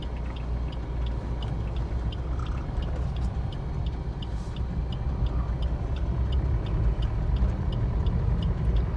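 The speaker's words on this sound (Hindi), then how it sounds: "अब हम कार को ड्राइव करना स्टार्ट करते हैं।" Car pulling away and beginning to drive, a steady low road and engine rumble building slightly, with faint regular ticking like an indicator, no talk.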